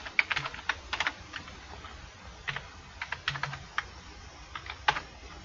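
Someone types on a computer keyboard, entering text into a Word document: irregular bursts of light key clicks, close and fairly quiet, with no talking.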